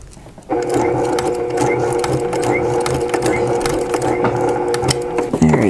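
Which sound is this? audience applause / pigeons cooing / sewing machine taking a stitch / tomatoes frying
sewing machine taking a stitch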